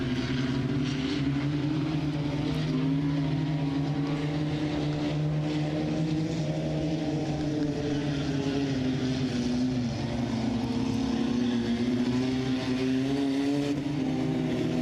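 Dirt track race cars roar around the Southern Ontario Motor Speedway, a steady layered engine drone with rising and falling pitch as the pack circles, loud and continuous throughout.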